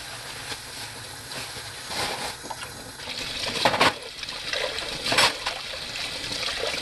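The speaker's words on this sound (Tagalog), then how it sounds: "Habang nag-aantay tayo na kumulo yung broth ko, naghuhugas muna ako. Para walang kalat sa lababo." Dishes washed in a kitchen sink while broth heats on the stove: running water trickles and splashes steadily up close, with clinks and surges of spray.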